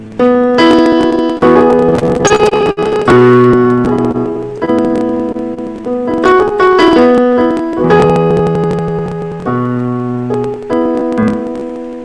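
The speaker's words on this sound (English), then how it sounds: "I hope you can hear my piano" Piano plays a Hare Krishna chant in steady chordal phrases, loud and close, with sustained notes ringing between changes and no voices over it.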